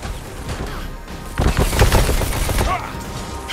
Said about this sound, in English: Someone's firing!